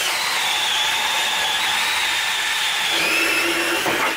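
DeWalt cordless drill driving an Irwin Speedbor wood bit through six inches of timber, a steady loud whirring grind held throughout with a shift in pitch near the end as the bit bites deeper.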